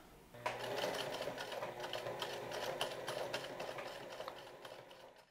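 A sewing machine runs steadily for several seconds while stitching belt loops onto a pair of slacks, a close, continuous mechanical whir with a fast rapid clatter of the needle.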